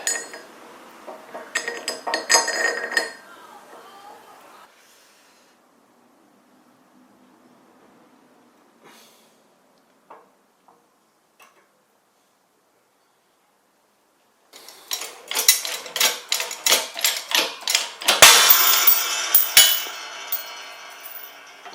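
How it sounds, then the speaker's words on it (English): Metallic clinks and sharp knocks from pressing 80mm wheel studs into the front hub of a 1969 Porsche 911T: a burst of clatter, a long quiet stretch with scattered ticks, then a dense run of loud ringing impacts, close up. "time to press in these 80mm wheel studs"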